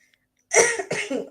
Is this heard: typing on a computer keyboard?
no